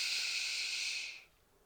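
A single long, airy breath during a gentle yoga session, a steady hiss close to the microphone that stops abruptly, then near silence.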